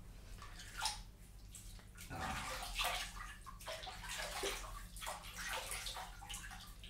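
Running water splashes steadily as a face is rinsed at a sink, with continuous flowing water, scattered splashes and drips, fairly close and alone.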